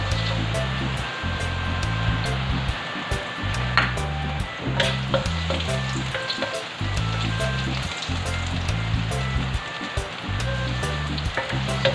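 Garlic sizzling and frying in hot oil in a pan for Filipino batchoy soup, a steady loud crackling hiss lasting throughout with small pops, close by and without voices.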